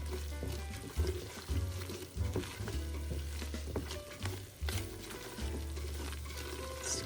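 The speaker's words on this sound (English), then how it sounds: "Just give that a really good stir." A spoon stirs flour into a soup base in a pot for a broccoli cheddar soup, with a soft, continuous scraping and swishing and faint bubbling, close and fairly quiet, with no talking.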